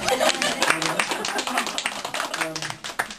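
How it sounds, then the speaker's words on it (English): Party guests at a 70th birthday celebration clap in scattered, uneven bursts indoors, with overlapping chatter and voices mixed into the clapping throughout. "Applause, everybody, please."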